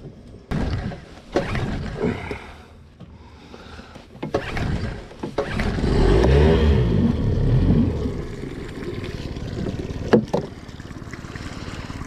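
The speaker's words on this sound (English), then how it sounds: "Shouldn't have to take that many pulls. I don't know what's going on with that motor." An outboard boat motor being pull-started, several quick rope yanks spaced apart, then the engine briefly sputters and rumbles before more pulls, outdoors on the water with wind.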